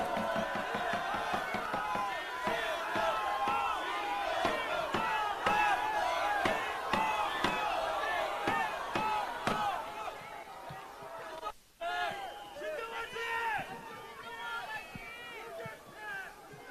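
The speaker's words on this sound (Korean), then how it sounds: "큰 박수로 맞아주십시오." A large crowd at a political party protest rally claps and cheers loudly and steadily, with shouting mixed in, a brief dip near the middle before the noise resumes.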